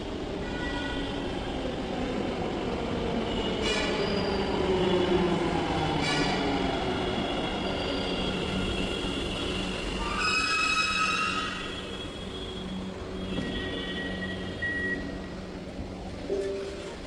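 A Bangalore metro train at a station rumbles steadily with a rising and falling motor whine, and a sequence of electronic chime beeps sounds partway through, nearby and fairly loud.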